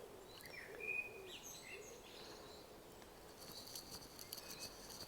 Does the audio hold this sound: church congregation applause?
no